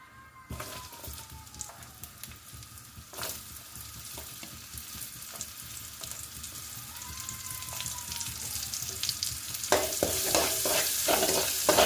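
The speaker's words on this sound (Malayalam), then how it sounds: "അടുത്തത് ഇഞ്ചിയും വെളുത്തുള്ളിയും വറുത്തെടുക്കുക മീൻ വറുത്ത എണ്ണയുടെ ബാക്കി തന്നെ ഒഴിക്കും" Ginger and garlic fry in leftover oil from frying fish, a steady crackling sizzle with occasional stirring scrapes, growing louder and busier toward the end.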